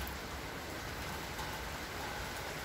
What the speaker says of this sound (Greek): Εδώ βλέπουμε να μόνο λίγο βροχή